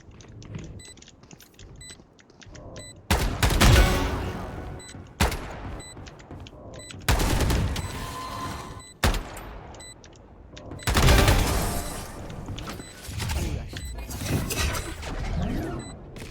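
Gunfire in a Valorant match: loud automatic bursts and rapid shots arrive in clustered volleys separated by quieter stretches of game noise.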